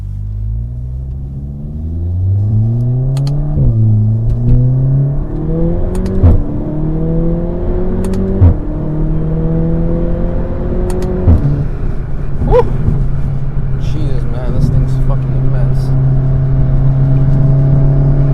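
A Volkswagen Golf R Mk7 accelerates hard, its engine note climbing steadily through several gears with brief dips at each upshift, loud and close throughout before settling into a sustained high-speed drone.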